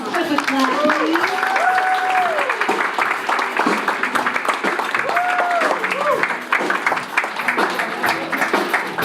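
An audience applauding gala honorees, sustained clapping from a crowd with voices and cheers mixed in, loud and continuous through the whole stretch.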